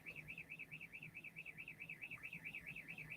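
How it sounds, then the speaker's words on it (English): Outside, a car alarm wails in a rapid up-and-down siren cycle, faint and distant, repeating steadily throughout. "that alarm outside going off again"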